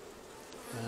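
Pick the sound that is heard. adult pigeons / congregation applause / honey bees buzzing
honey bees buzzing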